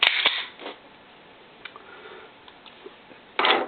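Trigger of a Ruger P95 pistol dry firing, a few sharp close clicks and small mechanical ticks spaced across a quiet background, with one louder burst near the end.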